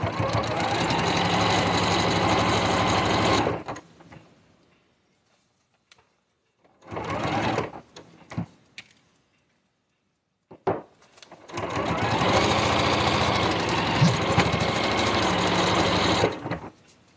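A sewing machine stitches a quilt seam in three bursts: a long run at the start, a shorter stop-start middle section, then another long steady run, with quiet pauses between them.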